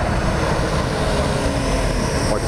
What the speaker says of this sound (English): Oh, nice, fast two-stroke.